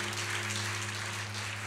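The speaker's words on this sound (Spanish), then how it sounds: "Dale un aplauso a Dios." A brief burst of congregation applause at a church service, many hands clapping in a dense, even wash over a low steady hum, without talk.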